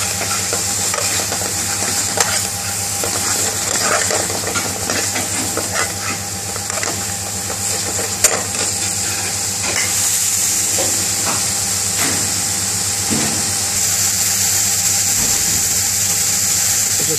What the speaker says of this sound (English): Just sticking some fresh bits of coriander. Slightly gently stirring.